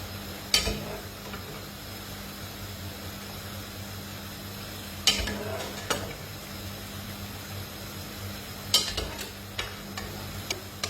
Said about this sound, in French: je la fais sauter puisque la pâte est un peu al dente